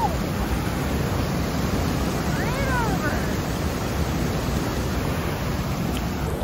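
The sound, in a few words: waterfall with snowmelt water pouring into a pool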